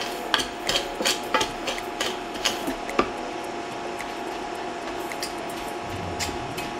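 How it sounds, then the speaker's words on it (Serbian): Brown sugar stirred constantly in a small pot as it melts: a series of sharp scraping and tapping strokes of a utensil against the pot, fairly close and quiet, thinning out into sparse soft clicks. "Istopit ću šećer neprestano mešajući."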